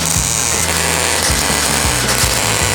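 Tack welding on a new floor panel for a Ford Fiesta XR2 produces loud, steady crackling and buzzing, with repeated short bursts that start and stop in an uneven rhythm. The sound is close to the microphone and there is no talking over it.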